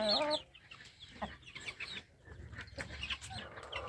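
Chickens and chicks on a free-range farm cluck and peep close by in a busy, continuous chorus of short calls.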